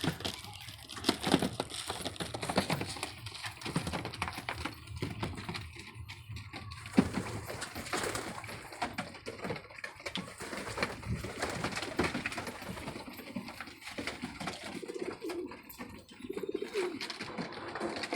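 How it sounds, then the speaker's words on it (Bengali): Pigeons cooing close by around their coop, soft repeated low coos mixed with fluttering, scratching and crinkling rustles, steady over a long stretch without talk. "ওই যে দেখেন কিছু কবুতর উঠতেছে।"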